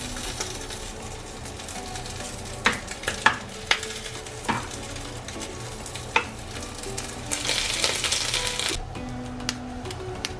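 Japanese yaki onigiri, rice balls grilling in a pan until crispy, give a steady close sizzle punctuated by sharp clicks and taps of utensils, swelling into a louder hiss near the end, with no speech.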